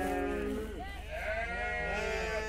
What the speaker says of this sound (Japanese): 羊もメイと鳴くのか